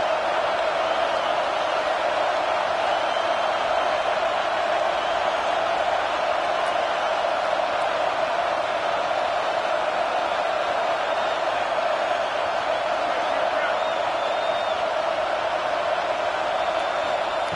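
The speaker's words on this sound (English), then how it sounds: "This crowd knows when to bring it." Stadium crowd in College Football 26 makes a steady, dense roar and cheer that holds level at full loudness the whole way through, with no breaks and no clear talk over it.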